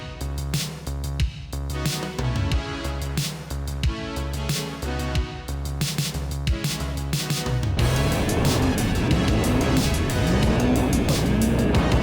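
A 2023 Yamaha Waverunner FX SVHO personal watercraft under way, its engine throbbing in a pulsing rhythm before giving way to a louder, constant rush of hull and spray over the water.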